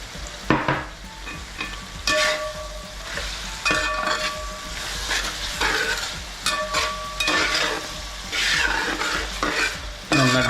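Slit green chilies and chopped capsicum sizzle in a hot pan for Kerala-style chilli chicken, with a spatula scraping and stirring in repeated close, scratchy strokes over a continuous frying hiss.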